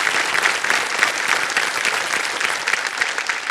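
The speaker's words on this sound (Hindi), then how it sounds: "ताली बज जाए उनके लिए" A game-show studio audience breaks into loud, sustained applause for a quiz contestant, a dense, even roar of clapping with no break.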